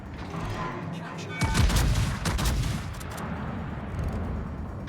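Warship main guns in a naval video game boom in a heavy volley, a dense cluster of loud blasts mid-clip with rumbling shots before and after, while someone talks over the action.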